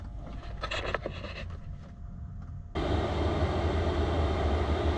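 A diesel heater's fuel pump runs alongside the heater, with a low mechanical hum at first, then a louder, steady broadband roar switching on partway through and continuing evenly to the end.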